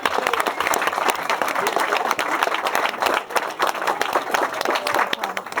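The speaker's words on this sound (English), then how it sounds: "I think that deserves a huge round of applause." Wedding guests at a reception break into loud, dense applause after a best man speech, a close and continuous crackle of many hands clapping with no break.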